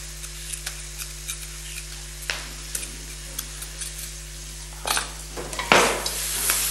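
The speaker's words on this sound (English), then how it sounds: "Just mix the bacon so that it sizzles." A soft sizzle of bacon frying in a pan for fried rice, with scattered clinks and scrapes of a utensil stirring against metal.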